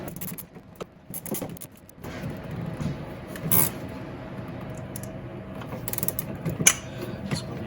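A ratchet tightening a 13 mm nut in the engine bay of a 1999 Dodge Dakota, a run of quick clicking bursts with brief pauses, close and clear, along with a few metallic clanks.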